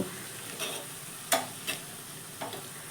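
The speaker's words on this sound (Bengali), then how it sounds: "এখানে আমি আর একটু কালার চেঞ্জ করে পেঁয়াজটাকে ভেজে নেব" Onions frying in a pan, browning further, give a steady sizzle close by, with four or five distinct scrapes of a spatula over about three seconds.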